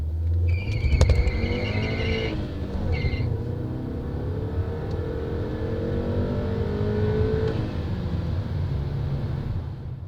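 A 2013 Skoda Octavia 1.8 TSI accelerates hard, its engine rumbling steadily with a rising drone over about ten seconds, heard from inside the car with no talking.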